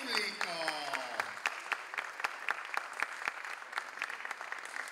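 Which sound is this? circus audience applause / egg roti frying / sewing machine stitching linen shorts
circus audience applause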